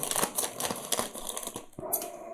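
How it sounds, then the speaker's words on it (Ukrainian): Scissors cut through plastic toy packaging for a Mojo brachiosaurus figure, a few quick close snips and crinkly scrapes in a short uneven run, fairly quiet with no speech. "Є у нас отакі предмети колючі, ріжучі, називаються ножиці."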